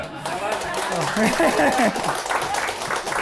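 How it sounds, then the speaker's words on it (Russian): An audience applauds Alexander with steady clapping throughout. A voice talks over the applause. "похлопаем Александру"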